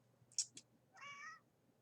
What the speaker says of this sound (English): You gonna meow?